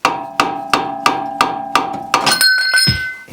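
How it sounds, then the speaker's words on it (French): A hammer strikes metal about seven times in a steady rhythm while knocking out a car suspension bushing, each close, ringing blow decaying before the next, followed by a clattering scrape as the part comes loose. "vous tapez avec le marteau ici"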